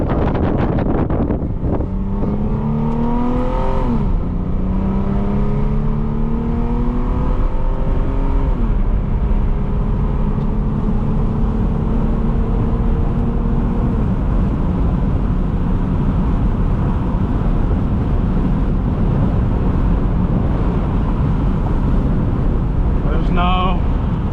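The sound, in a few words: Lexus IS250 driving on test drive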